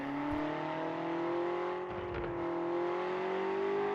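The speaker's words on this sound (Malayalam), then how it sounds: "അപ്പോൾ ഞാൻ കേൾപ്പിച്ചു തരാം വണ്ടിയുടെ എക്സോസ്റ്റ് സൗണ്ട്." A Mercedes S-Class in the Car Parking Multiplayer video game drones with a steady engine and exhaust note, the pitch dipping briefly around midway then climbing again, faint and continuous.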